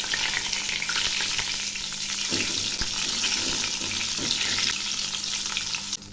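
Eggplant slices fry in hot oil in a pan with a loud, continuous sizzle, and soft clatters come as the pieces are turned over.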